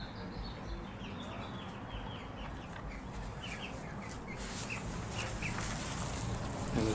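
Chickens cluck and chatter in an indoor coop area of a farm supply store, a soft, continuous flock murmur with scattered calls throughout and no talking.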